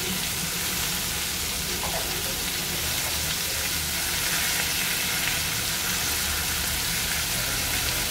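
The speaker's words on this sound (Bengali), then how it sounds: "এটা বেশি ভাজবো না, নাহলে হলুদটা পুড়ে যাবে" Spices with turmeric fry and sizzle steadily in a pan, a continuous close hiss that runs through the whole stretch without talk.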